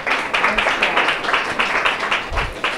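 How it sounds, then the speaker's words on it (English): Audience at a lecture on the social brain applauding actors, a dense, loud wash of many hands clapping continuously close by, with no talk over it. "let's give a round of applause to our actors"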